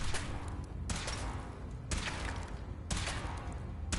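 Weapon firing in a video game: three loud, sharp discharges about a second apart, each with a broad crack and a lingering rumble, steady and close with no talk over them.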